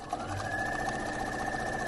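A sewing machine stitches steadily across a fabric edge with a continuous, close mechanical whir and a fast, even rhythm, no talk over it.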